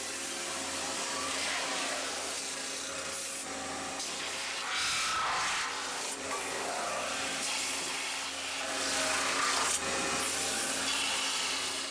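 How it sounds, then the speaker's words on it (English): A robot works an aluminium sheet with a nylon polishing wheel, producing a continuous loud broadband hiss and rubbing whir that swells and dips slightly as the wheel moves across the metal. "The robot, using a nylon wheel, produces a matte finish with shallow grooves."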